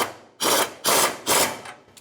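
Ratchet wrench with a 12 mm socket tightening fuel tank strap bolts on a 1992-1996 Ford F-150: three loud, close bursts of rapid clicking, each lasting about a third of a second and spaced evenly apart.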